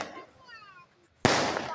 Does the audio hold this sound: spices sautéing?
no